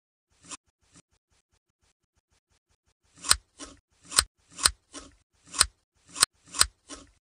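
Scissors snip through skin in a belly fat surgery animation: two soft cuts, then a quick run of about eight crisp, loud snips in steady rhythm, with no talking.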